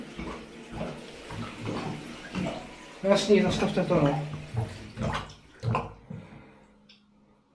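A clogged shower drain in a home bathroom gurgles and grunts with wet, bubbling, pig-like noises, moderately close, while people talk over and between the gurgles.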